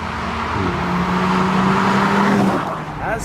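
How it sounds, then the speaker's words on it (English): A turbocharged four-cylinder engine in an Audi S3 hums steadily nearby, rising slightly in pitch over a couple of seconds before easing off, with a voice starting to talk at the end. "As nice as this turbocharged 4-pot sounds, and it has quite a nice burble to it"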